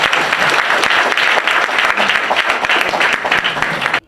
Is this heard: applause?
yes